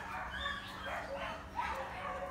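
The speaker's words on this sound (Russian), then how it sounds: "А собачка охраняет правду." A small pet dog gives soft yips and whimpering barks in short bursts, fairly faint and close, against a quiet indoor background with a low hum.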